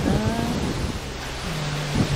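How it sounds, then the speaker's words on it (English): Strong wind buffets the microphone outdoors, a loud continuous rushing roar with low gusty rumbles rising and falling, no voices present. "This wind is awful today."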